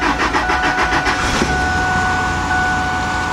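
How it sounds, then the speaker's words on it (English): A 2000 Ford F-150 pickup with the 4.2 engine cranks with a quick rhythmic starter chatter for about a second and a half, then fires and settles into a steady close idle. "so let's start this car up"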